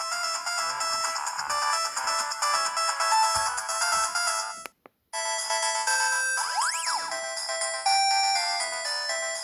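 A Samsung GT-E1272 ringtone plays loudly on a Newmind F15 flip phone, a bright electronic melody of rapid tones that breaks off briefly, then resumes with rising sweeps, alone without speech.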